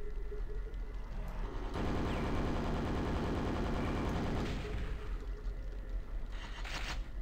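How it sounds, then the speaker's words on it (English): Rapid mechanical nail spray from the super nail gun in the video game Quake, a dense rattling burst lasting a few seconds, loud and close, followed by quieter game ambience and a brief second flurry. "Another super nail gun."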